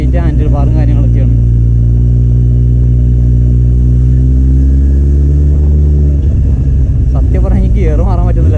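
A Kawasaki Z800 motorcycle engine drones loudly and close while being ridden, its pitch rising and falling as the throttle changes, with someone talking over it.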